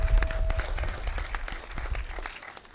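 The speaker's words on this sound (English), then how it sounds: "so let's give her a bigger round of applause." A museum audience at a rebranding announcement claps in a dense, steady burst of applause that fades slightly toward the end, with faint voices mixed underneath.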